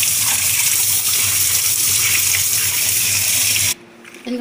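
Cold tap water gushes steadily onto boiled macaroni in a kitchen sink to rinse off the starch, a loud continuous splashing stream that cuts off abruptly near the end.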